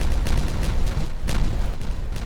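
Explosions blow up an area in the video game Timberborn, a rapid run of sharp booms and crackling blasts, loud and close, overlapping in quick succession.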